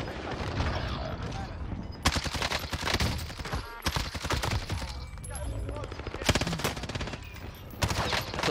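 Rapid automatic gunfire bursts loud and close in Modern Warfare Warzone's zombie royale mode, dense volleys with short gaps over a constant game background, no clear talk.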